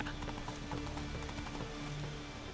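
Hooves of Roach, the horse in The Witcher 3, clip-clopping in a steady rhythmic trot, fairly quiet under game ambience.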